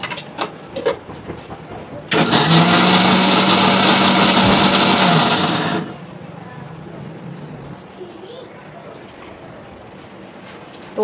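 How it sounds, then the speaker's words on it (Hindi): A kitchen mixer grinder whirs loudly for a few seconds as it grinds cashews and almonds with a little water into a smooth paste, starting and stopping abruptly amid quieter household background. "अब मैं इसको जा रही हूँ पीसने, ग्राइंड करने मिक्सर में"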